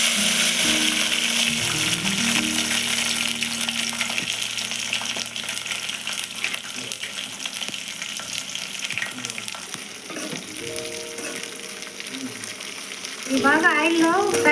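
Green chillies and onion pieces sizzle steadily in hot oil throughout, with scraping stir sounds and a brief tonal clatter near the end, for a Telugu gongura chicken curry.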